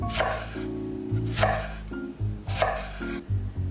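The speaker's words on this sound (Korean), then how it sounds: "레몬 반개는 모양을 살려서 5mm 두께로 썰어주세요." A knife slices half a lemon into 5mm rounds on a cutting board in three evenly spaced cuts, each ending in a soft thunk, under a low background hum.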